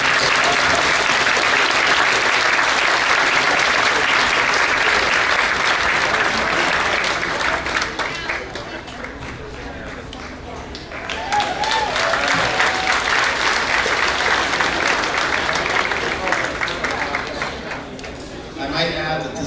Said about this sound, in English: So let's hear a big round of applause for ourselves.